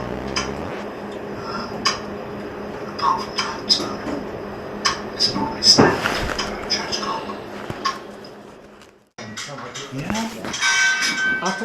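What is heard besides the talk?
pendulum clock in a cabinet ticking and chiming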